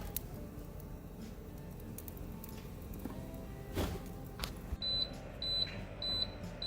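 A Masterbuilt 560 smoker's built-in timer beeps in short repeated bursts, a few evenly spaced chirps toward the end over a low background rumble and faint clatter.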